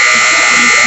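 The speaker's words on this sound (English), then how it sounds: "So there's the buzzer." A loud, steady electronic buzzer sounds continuously at a basketball game timeout, a harsh single tone lasting about a second.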